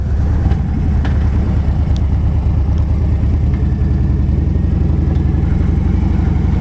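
A Harley-Davidson Dyna FLD motorcycle rolls into a churchyard, its engine giving a steady, loud, rumbling low throb that stays constant throughout with no talking.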